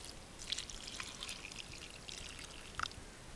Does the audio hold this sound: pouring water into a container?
yes